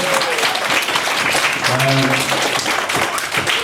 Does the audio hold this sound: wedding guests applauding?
yes